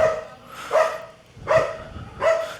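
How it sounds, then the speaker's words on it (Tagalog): Three loud dog barks at an even, slow interval, each a sharp burst ringing briefly, with quiet background between them. "ingay ng aso."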